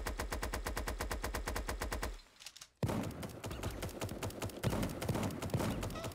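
Gunfire in the video game Super Animal Royale: a fast, even burst of repeated shots, a brief pause, then more scattered shots and impacts under game noise.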